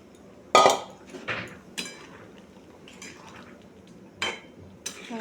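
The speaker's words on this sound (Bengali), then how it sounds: "এরপর আলুটা ঢেলে দেবো।" Potatoes are tipped into a cooking pot, with a few sharp clanks and clinks against the pot in separate bursts, close and fairly loud, then quieter scraping between them.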